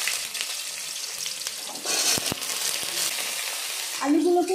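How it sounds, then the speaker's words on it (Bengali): Cut potatoes frying in hot oil with cumin and nigella seeds, a steady close sizzle throughout that swells louder near the end, with a few sharp clicks of a utensil against the pan. "আলুগুলোকে একটু ভেজে নেবো লাল লাল করে"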